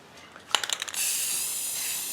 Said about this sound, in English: So we're just going to spray a nice even coat.